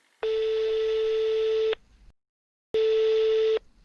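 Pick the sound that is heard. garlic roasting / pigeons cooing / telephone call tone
telephone call tone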